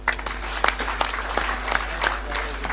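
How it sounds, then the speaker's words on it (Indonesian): Audience applause for young inventors at an Indonesian political gathering, steady crowd clapping with a few louder nearby claps, over a low constant hum. "Tepuk tangan untuk mereka."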